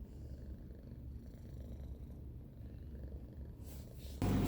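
A cat purrs continuously while being petted, a low, close, rhythmic rumble heard alone and quiet, ending with a brief louder rustle.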